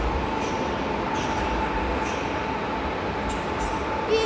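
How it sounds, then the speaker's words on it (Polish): An Intercity passenger train hauled by an ET07 locomotive passes in Wrocław, giving a steady, loud rail rumble with a faint high wheel squeal near the end. "I Intercity Mamry z lokomotywą ET07 400."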